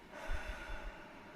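A slow exhale during breathing meditation, a soft breathy rush with low puffing pulses, close and quiet.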